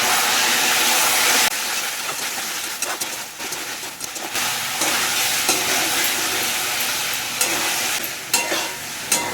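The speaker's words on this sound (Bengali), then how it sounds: "আর মাংসটা খুব ভালো করে কষিয়ে নিচ্ছি আলুর সাথেই" Mutton and potatoes sautéing together in a pan for a thin goat curry, a steady loud sizzle and frying hiss with stirring scrapes running throughout, no talk.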